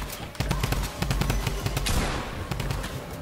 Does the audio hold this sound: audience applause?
no